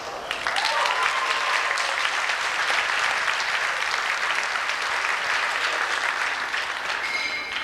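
Sustained applause from a large audience, dense and steady throughout, loud and even from start to finish.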